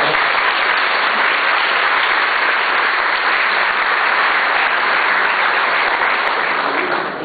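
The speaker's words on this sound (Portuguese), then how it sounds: "Uma salva de palmas a todos." Audience at a PHP conference keynote in Brazil giving sustained applause, a loud, dense wash of many hands clapping that continues steadily throughout.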